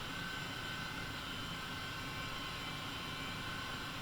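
Steady, unbroken rotor and turbine drone of an H135 helicopter in Flight Simulator 2020, flying over the pyramids, holding at a constant moderate level throughout with no talk.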